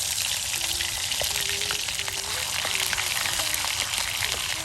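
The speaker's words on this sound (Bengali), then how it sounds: "এই যে দেখুন এখন সুন্দর করে তেলে ভেজে নেওয়া হচ্ছে" Tomato chapa biryani ingredients fry in hot oil, giving a steady, close sizzle with a dense crackling hiss that runs unbroken from start to end.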